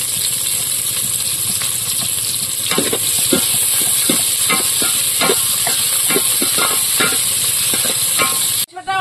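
Onion frying in a pot set on a clay stove, a steady loud sizzle with repeated scraping stirs from about the third second onward, no voices.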